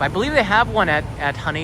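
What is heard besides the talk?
No distinct noise like a dog, phone or traffic.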